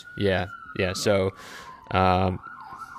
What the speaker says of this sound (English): San Francisco Sirens.